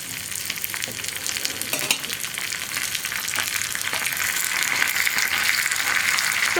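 Dried red chillies and curry leaves frying in hot oil in a pan for an easy tomato curry, a steady loud sizzle and crackle that builds slightly toward the end, with no voices.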